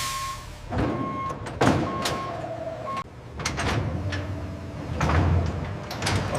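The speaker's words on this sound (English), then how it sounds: "Okay, doors are locked open." Large doors in a coconut processing factory being opened, heard as several separate thuds, slides and clanks spread over a few seconds, with steady machinery hum and occasional short beeps in the background.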